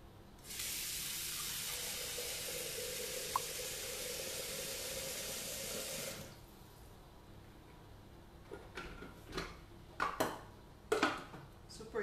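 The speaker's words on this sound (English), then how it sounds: "I'm gonna clean this using only water and the pre-clean function" A kitchen appliance's pre-clean cycle sprays water steadily in a sink for several seconds, then stops, followed by a few clattering knocks and small handling noises of kitchenware.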